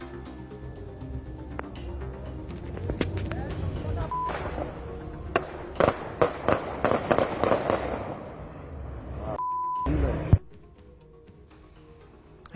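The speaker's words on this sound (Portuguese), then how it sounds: "vamos ouvir o momento em que os tiros foram disparados" A rapid burst of sharp gunshots cracks out in quick succession, loud and echoing, with muffled commotion and a brief beeping tone around them.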